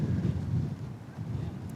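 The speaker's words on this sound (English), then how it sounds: "It's so windy. This is nuts." Strong wind buffets the microphone on a backpacking trail in Big Bend's Chisos Mountains with a continuous low roar and rumble, loud and close, with no voices heard.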